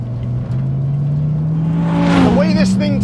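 A Dodge Viper ACR's engine roars through its side pipe exhausts, a loud, close, steady drone climbing in pitch as it revs, with a rougher burst of exhaust crackle near the end.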